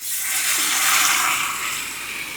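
Cooked lentils are poured into a pan for a vegetable dish, a brief, close, steady liquid rush that swells and then eases off.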